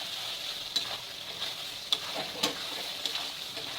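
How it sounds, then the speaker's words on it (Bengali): Fried paneer stirred into a nearly finished masala paneer gravy over a steady low sizzle, with a spoon scraping the pan in several distinct strokes at uneven intervals. "পনিরগুলো দিয়ে ভালো করে মিশিয়ে নিতে হবে।"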